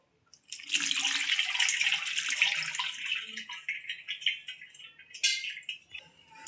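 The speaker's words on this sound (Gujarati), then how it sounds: "માથે આપણે થોડુંક ઠંડુ પાણી નાખશું." Cold water pours from a tap over freshly boiled pasta in a jar, a loud steady splashing stream lasting several seconds before tapering into intermittent trickles and drips.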